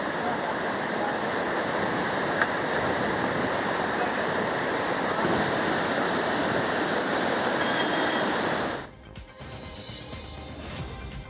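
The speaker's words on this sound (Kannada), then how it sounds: "ಗದಗ ಜಿಲ್ಲೆಯ ಸಿಂಗಟಾಲೂರು ಬ್ಯಾರೇಜ್ನಿಂದ ಅಪಾರ ಪ್ರಮಾಣದ ನೀರು ಬಿಡುಗಡೆ ಮಾಡಲಾಗಿದೆ" A massive release of water gushes from the Singatalur barrage in Gadag district into the swollen Tungabhadra river, a loud, unbroken roar that cuts off abruptly near the end to a quieter rush.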